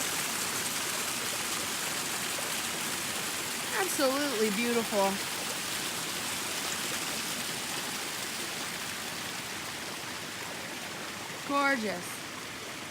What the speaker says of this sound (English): Got a little bit of a water crossing going through the trail.